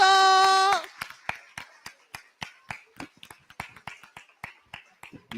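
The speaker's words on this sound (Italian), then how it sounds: "Un applauso!" Light, sparse clapping from a small theatre audience at Teatro Careni in Pieve di Soligo, a handful of separate crisp claps in a loose rhythm following a brief sustained tonal sound at the start.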